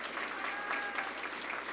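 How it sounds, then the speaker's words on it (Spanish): Audience applause at a housing handover ceremony in Popotla, Mexico City: a steady wash of clapping from a crowd, even and sustained throughout without a clear break. "con la doctora Claudia Sheinbaum, a quien le mandamos un fuerte aplauso desde este lugar."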